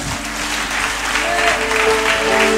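A church congregation applauds loudly and continuously, the clapping dense and close throughout.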